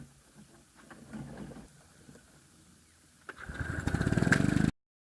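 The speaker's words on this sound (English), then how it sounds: "how much better it cuts the grass with those 4 sharper blades" A Victa lawn mower with four freshly sharpened blades cuts grass, starting as a faint rumble and then rising into a loud, close whirring roar before stopping abruptly.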